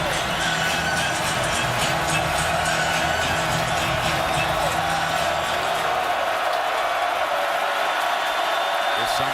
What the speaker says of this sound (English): Some crowd right now.